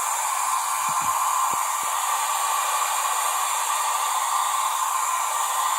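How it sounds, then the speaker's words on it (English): A hairdryer blows steadily and loudly throughout, drying food-coloured paper, a constant rushing whoosh with a few faint knocks near the start. "And I just dry it with my hairdryer."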